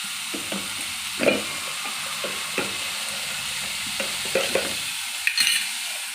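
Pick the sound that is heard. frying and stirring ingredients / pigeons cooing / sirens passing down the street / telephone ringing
frying and stirring ingredients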